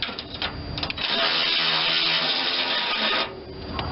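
A thread tap grinds and rasps as it is turned in a stubborn bolt hole on a Vermeer BC625A machine, a close, gritty scraping that pauses briefly before resuming.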